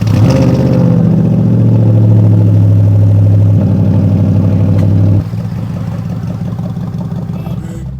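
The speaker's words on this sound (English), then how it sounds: "Driving the modded Mercedes McLaren SLR." A modded Mercedes McLaren SLR engine drones loud and close while driving, a deep steady hum that shifts down in pitch twice as the car changes speed, with no voices over it.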